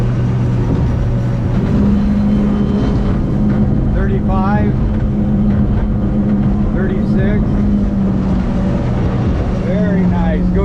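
A 20-foot Custom Weld boat with a repowered, rebuilt outboard running at speed, a steady droning engine hum with the rush of water throughout, while someone talks over it.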